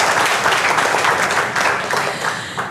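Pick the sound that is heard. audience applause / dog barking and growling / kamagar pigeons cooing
audience applause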